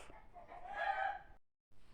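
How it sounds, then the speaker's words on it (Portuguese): Backyard chickens outdoors cluck and call in a short, moderately loud burst, then the sound cuts off briefly before faint ambience returns; no one speaks. "E as galinhas lá fora querendo botar ovo."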